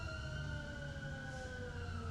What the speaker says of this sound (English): A lot of sirens go by my apartment throughout the day.